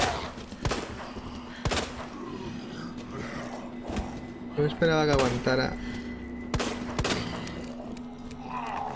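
Gunfire in the video game Resident Evil 2 Remake: several sharp, loud shots spaced irregularly across the stretch, with other in-game noises between them and someone talking over the action.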